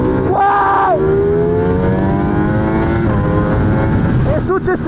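A superbike engine roars loudly on a race track, climbing in pitch through repeated gear changes, heard up close with some talk mixed in.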